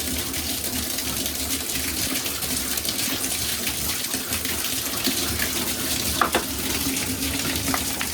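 Water running from a tap at a family lodge with a poorly working water heater: a steady, close hiss and splash of flowing water, continuous and unbroken throughout.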